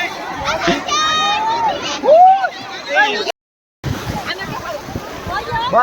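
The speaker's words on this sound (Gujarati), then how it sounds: "તો દરિયામાં નાવાનું ચાલુ કરી દીધું છે" A lively crowd shouts and cheers while bathing and splashing in the sea at Nishkalank Mahadev, Gujarat, with children's voices rising over the steady surf.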